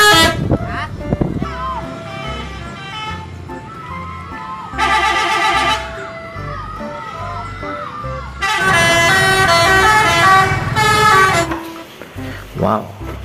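A Rosalia Indah bus sounds a melodic, multi-tone horn in two long honking bursts over a rumbling motor, loud and close, with a voice speaking in between.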